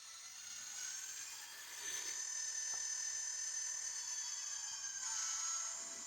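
Small motor whine of an Atlas N scale C420 Apache model locomotive throttling up, a faint high-pitched electric whir that rises slightly in pitch and stays steady, quiet and close with no talk.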